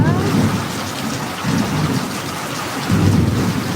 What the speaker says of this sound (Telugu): వర్షం బాగా పడుతుంది కదా